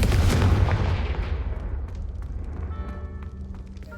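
Confringo fire spell blasting in Hogwarts Legacy, a heavy booming explosion that starts loud and rumbles down into a long fading low-end tail over four seconds.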